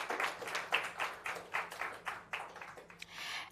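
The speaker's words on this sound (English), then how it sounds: "A round of applause, please, for Amina." An audience at a World Bank panel event on inclusive growth in South Africa claps for a panelist being introduced: a fairly faint patter of hands in quick irregular bursts heard from some distance, with no talk over it.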